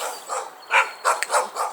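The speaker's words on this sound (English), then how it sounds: "I don't know what they're barking at" Several dogs barking in short bursts at a squirrel in a garden, about five sharp barks in an uneven rhythm, fairly close and moderately loud.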